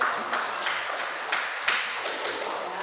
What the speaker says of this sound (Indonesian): Tepuk tangan dahulu